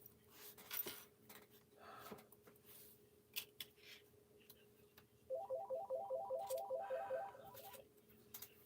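A mobile phone rings faintly in a quiet room, a rapid repeating electronic tone that sets in partway through and runs for a couple of seconds amid scattered small clicks.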